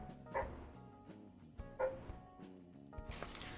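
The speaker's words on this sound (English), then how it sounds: "that barking outside" A guard dog barks outside in a few spaced yips and woofs, moderately distant and muffled, over a quiet room background with no speech.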